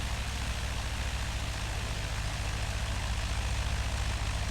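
Propeller airplane engine in flight, heard as a steady loud drone with a low throbbing pulse that stays even throughout, with no talk.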